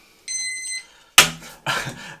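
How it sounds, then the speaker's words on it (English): A kitchen timer being set for five minutes while making white bread gives a short electronic beep, followed by a couple of sharp clattering knocks up close. "we're going to set our timer for 5 minutes"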